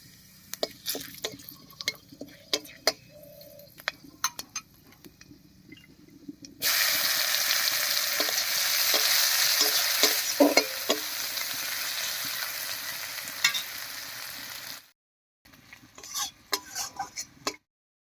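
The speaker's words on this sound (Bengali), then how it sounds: "মাছ ভাজার এই তেলের মধ্যে ফোড়ন দেব আর ফোড়ন দেব একটা শুকনো লঙ্কা গোটা জিরা আর পেঁয়াজ কুচি দিয়ে" Dried red chili, whole cumin and chopped onion dropped into hot leftover fish-frying oil for latha fish curry, a loud sudden sizzle that hisses steadily for several seconds amid spatula scrapes and clinks, then cuts out.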